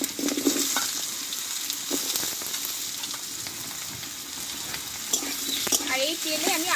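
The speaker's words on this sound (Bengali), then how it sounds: "আর এই তেলে আমি আলুটা একটু ভালোভাবে কষিয়ে নেব।" Cut potatoes frying in mustard oil with a bay leaf and panch phoron in a wok, a continuous loud sizzle with occasional scrapes of the spatula as they are stirred.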